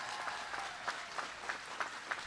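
Family and friends applaud at a college spring graduation ceremony, a faint, distant patter of many hands with a few louder claps standing out at regular intervals.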